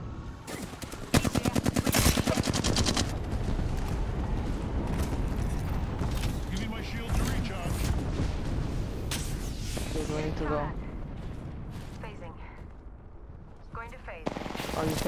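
Rapid bursts of automatic gunfire from an Apex Legends match ring out loud and repeatedly, with heavy firing early on and more shots scattered throughout, mixed with game effects and a player talking over the action.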